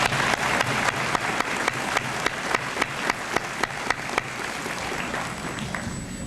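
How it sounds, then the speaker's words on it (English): A high school honors assembly audience applauds its students, dense crowd clapping with a few sharp, regular louder claps standing out near the front, sustained for several seconds before thinning slightly. "Let's give our students a nice round of applause"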